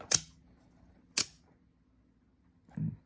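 A clone Microtech OTF knife fires its blade out with sharp mechanical snaps, two crisp clicks about a second apart and then a softer, duller clunk, close up in a quiet room.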